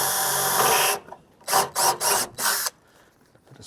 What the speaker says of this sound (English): I'm going to drill a couple of holes with some screws in that